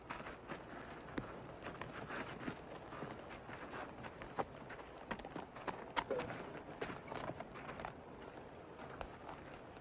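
Horse hooves clip-clop in a 1960s western, a faint irregular series of soft clops over a quiet outdoor background.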